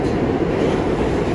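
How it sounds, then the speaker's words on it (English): Subway train in motion under 110th Street in New York, heard from inside the car as a steady, loud low rumble with broadband wheel and track noise, continuous and without talk. "It's just like I'm in the train"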